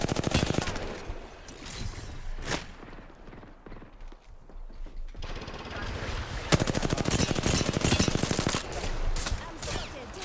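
Rapid gunfire bursts in the Apex Legends video game, clusters of sharp shots with a pause in the middle before a dense, sustained stretch of firing.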